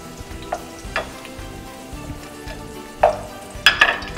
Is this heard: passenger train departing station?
no